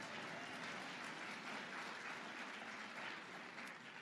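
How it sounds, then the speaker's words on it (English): An audience at a campus kick-off event gives a steady, dense round of applause that fills the whole stretch with no break, sounding moderately distant and even throughout. "Round of applause."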